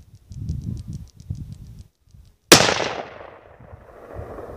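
A single sharp, loud report from a Mossberg MVP Patrol .308 rifle cracks out close by and trails off in a long echoing tail, preceded by soft rustling and handling noises.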